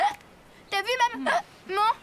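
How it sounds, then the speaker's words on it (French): Minette, a cartoon cat, hiccups in a series of short, squeaky, voiced yelps, several quick catches with pauses between them, performed by a voice actor. "Mais dis donc, tu as un sacré hoquet"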